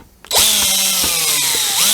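A power drill driving plasterboard screws into wood on a workbench whines up sharply after a brief quiet moment and holds a loud, close, steady spin as the screw goes in.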